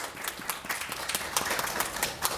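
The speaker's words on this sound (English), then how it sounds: "So I give you a round of applause from across many," Audience applause at the Bulgaria-Korea Policy Forum, a dense patter of hand claps spread through a hall, moderately close and steady for a couple of seconds with no talk over it.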